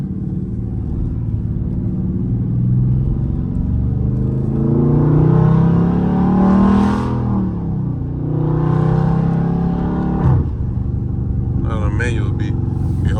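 Loud Dodge Charger Scat Pack driving at night, heavy engine rumble swelling through a couple of revving accelerations and gear changes, heard from inside the car with people talking over it.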